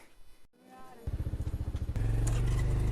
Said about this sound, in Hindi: तो गाइस अब हम निकल चुके हैं जागेश्वर मंदिर की ओर से अपनी एवेंजर बाइक पे मिस्टर राजेंद्र सिंह कार्की के साथ।